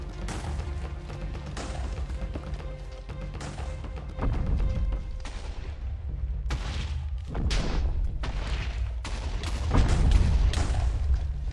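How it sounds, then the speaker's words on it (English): Repeated heavy booms and blasts in modded hardcore Minecraft, loud and close, one after another every second or so with rumbling tails. "After a while, I started to hear explosions outside."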